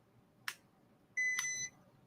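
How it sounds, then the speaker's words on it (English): A handheld breathalyzer gives a short, sharp beep, then a longer, steady electronic tone about half a second later, both fairly loud against a quiet room. "Okay, so I have this breathalyzer, right? And y'all can hear it."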